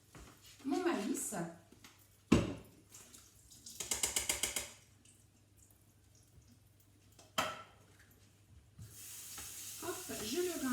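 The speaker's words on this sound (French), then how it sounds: "Je vais égoutter mon maïs." Canned corn is drained and rinsed under a tap, with splashing and pouring water in short bursts mixed with rattling and handling noises, close by and moderately loud.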